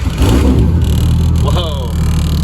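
A 2JZ engine swapped into a Mazda Miata cranks and catches, settling into a loud, close idle with a quick rising rev near the end, while voices call out over it.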